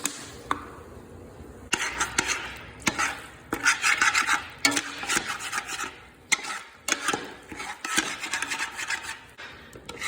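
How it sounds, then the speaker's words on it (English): A flat-bottomed spoon scrapes and stirs across the bottom of a cooking pot over high heat, repeated rasping strokes in irregular bursts, close and moderately quiet. "It's good to have a flat bottom spoon. That way you can scrape that bottom."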